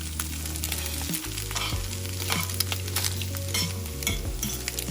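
Butter melting and sizzling in a pan for breakfast fried rice, a steady close crackling hiss with stirring scrapes and a low hum underneath, no talk.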